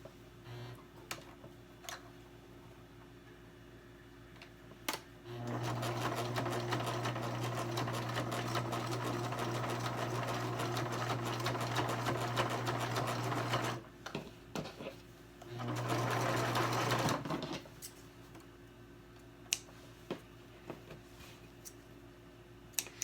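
A sewing machine stitches a quarter-inch seam on a 3D fabric face mask, humming loud and steady for about eight seconds, pausing briefly, then running again in a shorter burst, with scattered ticks and clicks before and after.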